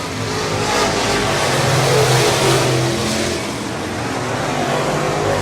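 Race car engine at full throttle on the Cotton Bowl Speedway oval, a loud, steady roar that swells and holds, blending with other cars in a continuous dense drone.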